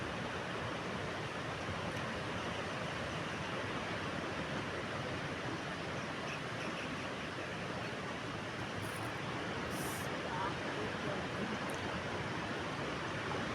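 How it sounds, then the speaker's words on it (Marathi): Sea waves wash against rocks as a dense, even hiss of surf, steady and fairly distant with no distinct crashes, and no voices. "समुद्राच्या लाटांचा आवाज कानात साठवून ठेवा"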